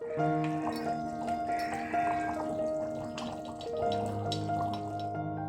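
Dishes and containers are washed under a running tap, with a steady stream of water splashing and occasional clinks of the items being handled.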